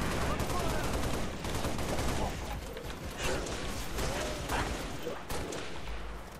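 Continuous gunfire from a gun in a video game, dense and loud, with steady shots blending together over several seconds and no clear talk.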